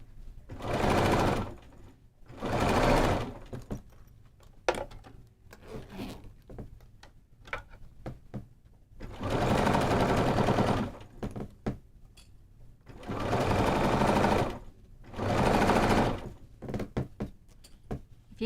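Binding is sewn onto a bag with a sewing machine in five short bursts of whirring stitching, separated by quieter gaps with handling thumps and rustles of fabric. Only faint murmurs of voice.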